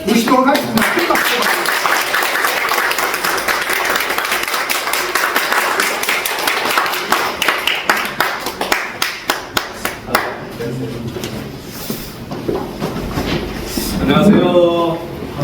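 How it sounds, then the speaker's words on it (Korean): A lecture audience at a company event claps loudly, the dense applause thinning into scattered individual claps before a speaker begins talking. "큰 박수."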